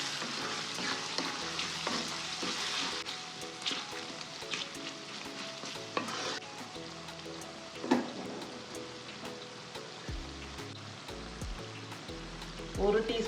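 Spices being stirred into a frying pan while cooking egg rice with turmeric and red chilli powder, a steady close sizzle and frying hiss with scraping stirs, plus intermittent low rumbles from the stove or kitchen.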